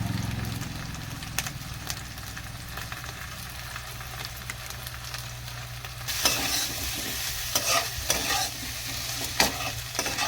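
Spices such as turmeric and Kashmiri chilli sizzle in a pan for rohu fish curry, with steady frying and repeated stirring scrapes that grow louder and busier toward the end.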